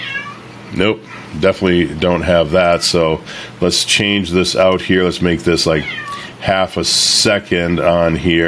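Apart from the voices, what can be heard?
cat meowing in the background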